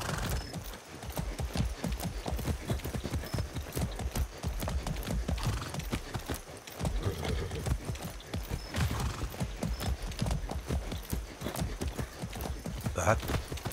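Horse hooves clip-clop in a steady, brisk rhythm as a horse is ridden in the Far Cry 6 video game, close and continuous, with a brief whinny and occasional speech over the hoofbeats.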